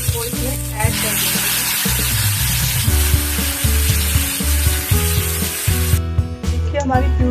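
Spinach and chili cooking in a pan for lasooni palak, with a loud, close sizzle and frying hiss throughout, over repeated stirring and scraping strokes against the pan and background music.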